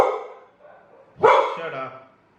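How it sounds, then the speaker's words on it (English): A dog barks once nearby, a sharp, loud bark following a moment of speech, then trailing off into quiet. "That's my dog."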